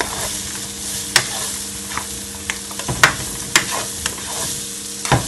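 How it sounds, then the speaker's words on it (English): Seasoned ingredients sautéing in a pan for Jamaican stew chicken rasta pasta, a constant close sizzle punctuated by sharp utensil clinks and stirring scrapes at irregular intervals. "You're just gonna allow it, guys, to saute for at least a couple of seconds."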